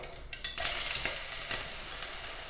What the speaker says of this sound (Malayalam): ഇനി ഇതിലേക്ക് 1/2 ടീസ്പൂൺ കടുകിട്ട് പൊട്ടിക്കാം